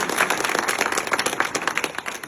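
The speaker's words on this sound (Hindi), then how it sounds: "एक बार जोरदार ताली इस गांव के नाम पे" Applause from a village crowd gathered at a rally, dense clapping swelling steadily for a couple of seconds at close range with no voices over it.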